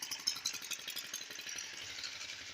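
A village tubewell pump engine runs steadily nearby, a continuous rattling mechanical drone with a rapid regular chug and no talking over it.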